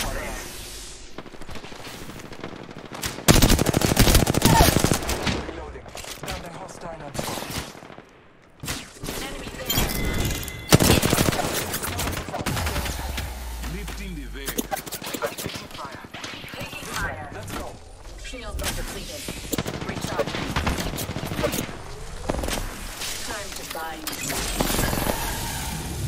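Apex Legends firefights crackle with repeated bursts of automatic and single gunshots, some near and loud and some farther off, spread across a long stretch with brief lulls, while in-game voices talk over the shooting.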